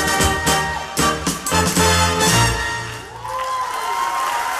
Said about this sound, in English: The Paso Doble group dance and an extra cheer from the audience.